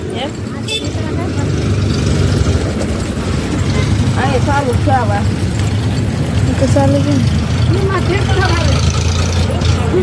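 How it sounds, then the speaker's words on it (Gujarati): A tractor engine idles at close range throughout, a steady rumbling, while people talk over it. "ટ્રેક્ટર છે ને"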